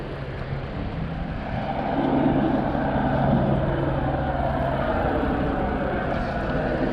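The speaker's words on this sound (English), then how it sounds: "Straight ahead, we're gonna have the LAPD chopper right about now." An LAPD police helicopter passes overhead near the Venice and Marina del Rey beach area of Los Angeles, its steady broadband rotor-and-engine drone swelling slightly louder midway before holding steady, heard from a moving bicycle.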